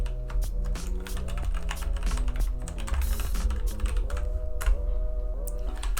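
Rapid typing on a computer keyboard while entering an email address, a dense run of close, crisp key clicks that continues without pause, no speech.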